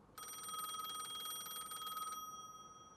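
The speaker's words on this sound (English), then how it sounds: "the telephone in the mobile research station began ringing" A telephone rings inside a mobile research station, a steady bright electric bell trill lasting about two seconds, loud and close, then cutting off with a brief ringing tail.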